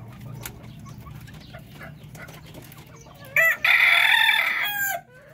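Native darag chickens on a farm, with a loud close rooster crow bursting out near the end over a background of softer clucking and low farmyard murmur.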